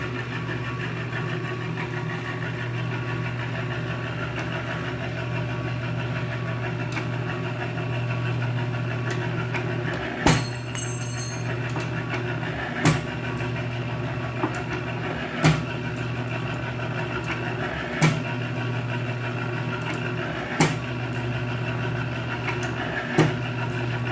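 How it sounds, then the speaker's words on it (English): Homemade rod and bolt cutter running with a steady mechanical drone and hum, punctuated every few seconds by sharp clacks as it cycles, about six strokes in a regular rhythm. "Here's a close-up of my cutter. I'm going to do a close-up of it running."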